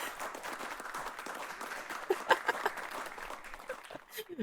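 Applause sound effect from a stream chat redemption plays during a game stream, thin clapping mixed under a streamer's excited voice and scattered clicks.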